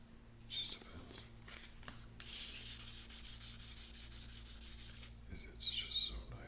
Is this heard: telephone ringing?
no